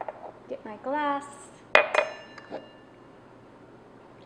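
A drinking glass is picked up and handled on a kitchen counter, with a sharp clink and a brief ring after a short burst of soft voice or scraping.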